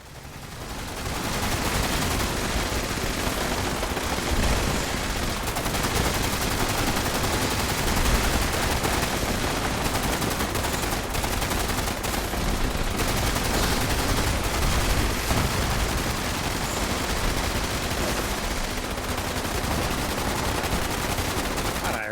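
Sustained rapid gunfire in Fallout 76, dense automatic bursts hammering almost without pause, loud and close throughout with only brief dips.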